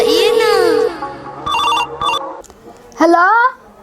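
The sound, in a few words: telephone ringing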